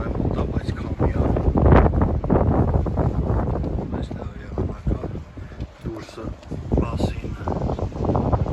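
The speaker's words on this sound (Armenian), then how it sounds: "Ես էլ ես դուրսը այսօր հավեմ ուտա, բայց քամի է։" Gusty wind blows outdoors and buffets the microphone with a steady, rough rumble and hiss that rises and falls throughout.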